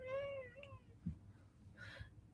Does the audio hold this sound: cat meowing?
yes